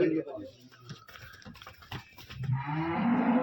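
A young cow that has calved for the first time moos loudly and close by at a livestock farm, with other moos and cattle sounds mixed under people talking throughout.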